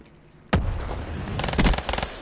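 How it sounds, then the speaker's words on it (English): Shotgun fire in Call of Duty: Black Ops 3, a sudden loud blast after half a second of quiet, then a rapid burst of sharp reports a second later over ongoing rumble, close and punchy. "Oh, shotgun."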